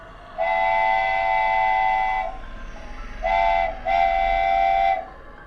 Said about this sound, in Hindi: तभी मुझे ट्रेन का हॉर्न सुनाई दिया।